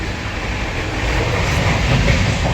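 A passenger train from Kolkata to Varanasi pulls out, heard from on board as a loud, steady rolling rumble on the rails with no voices.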